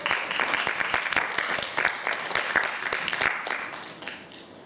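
An audience at a middle school English speech competition applauds a contestant, sustained dense clapping from many hands that tapers off toward the end.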